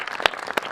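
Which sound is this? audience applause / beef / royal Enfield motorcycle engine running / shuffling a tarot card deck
audience applause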